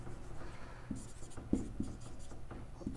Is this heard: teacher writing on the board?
yes